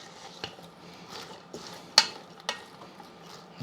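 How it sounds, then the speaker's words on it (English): Beer, cabbage and sausage being stirred in a Ninja Foodi, a spoon clinking and scraping against the pot over a soft low simmer. There is one sharper knock near the middle, and the sound is close with no talking. "So give it a really good stir."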